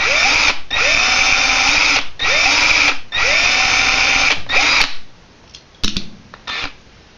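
Power drill with a number 50 bit drilling out the rivet on a Hot Wheels toy car, close and loud, in four whining bursts that each spin up and stop, then a few short quieter taps and clicks.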